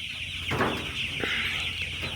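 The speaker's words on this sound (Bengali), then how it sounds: "মুরগির বাচ্চাগুলোকে ভ্যাকসিন দিলাম। ভ্যাকসিন দেওয়ার পরে আপনার এই যে দেখতেছেন ছেড়ে দিয়েছি" A flock of young chicks, just vaccinated and let out into a larger space, keep up a continuous high cheeping and clucking chorus, with a few louder peeps standing out and no talking.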